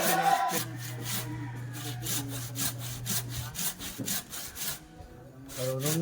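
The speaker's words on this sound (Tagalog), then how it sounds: "yung hagod lang ng lagari" A hand saw cuts through wood in steady back-and-forth rasping strokes, close and fairly loud, with a brief pause near the end before sawing resumes and no talking.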